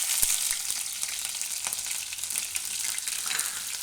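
Cumin seeds and green chillies hitting hot oil in a pan, a bright, continuous sizzle with small pops and crackles, close and steady, no one talking.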